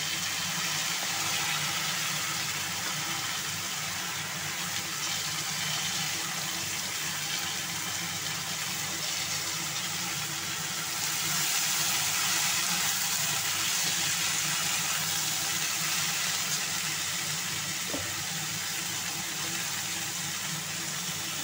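Amaranth stalks dropped into a frying pan of hot oil where potatoes have just been fried for a Bengali data shak dish, giving a steady close, loud sizzle throughout with a brief rise in hiss midway, no talk.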